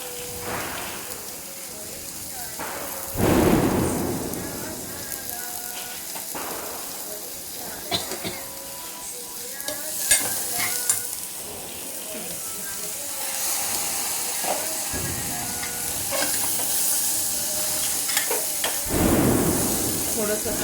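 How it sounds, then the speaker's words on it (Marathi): Green moong being sautéed and stirred in a hot pan, a steady sizzle and hiss with intermittent scraping stirs, close and fairly loud, with occasional talk alongside. "थोडंसं असं परतून घ्यायचं"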